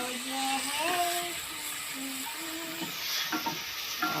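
Jackfruit is stirred into a simmering coconut milk dish of ginataang langka, giving soft, continuous stirring and sizzling noises at moderate loudness while faint voices murmur in the background.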